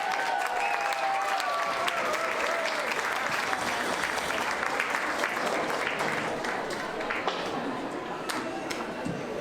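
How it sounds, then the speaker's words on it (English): Audience applause for the Gora dancers at an Aboriginal cultural performance: dense, steady clapping from a large crowd that fills the whole stretch and tapers slightly toward the end. "please put your hands together for the Gora dancers"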